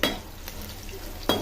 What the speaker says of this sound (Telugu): ఆయిల్ వేడగిన తర్వాత పోపు దినుసులు యాడ్ చేసుకోవాలి